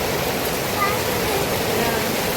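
Heavy unseasonal rain pouring down hard, a dense, loud, steady wash of water noise with no breaks.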